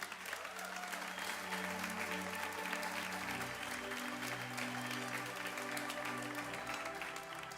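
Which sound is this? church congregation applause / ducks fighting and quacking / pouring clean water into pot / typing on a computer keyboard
church congregation applause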